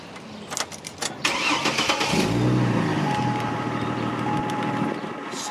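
A GMC Envoy's power window motor with a broken cable follows a few clunks and knocks, then whirs with a steady, low electric hum for several seconds while the glass stays put.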